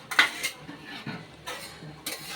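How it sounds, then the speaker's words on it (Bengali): Fried prawns being stirred into bottle gourd in a pan for Bengali lau chingri, with a few sharp utensil clinks and scrapes against metal spaced through a quiet stretch, no talking. "এই সব দিয়ে খুব ভালোভাবে লাউয়ের সাথে মিশিয়ে দেবো।"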